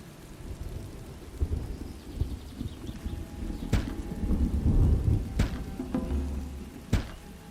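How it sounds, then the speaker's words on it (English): A thunderstorm in the Farthest Frontier game: steady rain hiss with rolling low thunder swelling in the middle, and several sharp, close cracks, all without voices. "you can really hear the thunder in the background."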